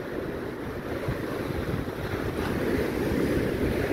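High-tide waves at night on Boracay beach during a typhoon, a constant roaring wash of surf mixed with gusty wind buffeting, steady and loud, with no voices.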